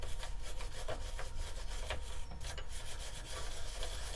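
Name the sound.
wire brush cleaning up turned scrap wood on a lathe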